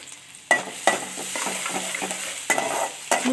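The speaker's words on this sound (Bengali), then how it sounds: "দু তিন মিনিট ভালো করে নেড়ে নিতে হবে।" Chopped garlic, ginger and green chilli being stirred and fried in a pan, with a spoon scraping in several distinct knocks over a steady close sizzle, no voices.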